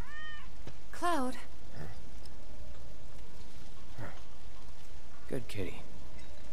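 A cat meows a few times, short and mid-distance, over a steady hiss of rain in Final Fantasy 7 Remake gameplay.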